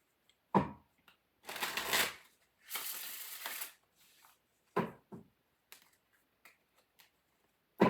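Revelations tarot cards being shuffled by hand, with several riffling bursts about a second long separated by quiet pauses and a few light taps and clicks, close and clear with no talking.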